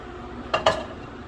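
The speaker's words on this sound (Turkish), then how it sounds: "Tencereyi soğutarak kapağını açalım" A metal cooking pot lid lifted off a pot of tas kebabı, giving two quick close clinks in a quiet kitchen.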